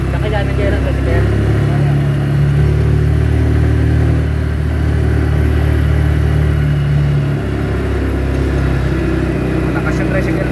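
A motorized tricycle engine drones loudly and steadily close by, a constant rumbling hum with slight shifts in pitch throughout.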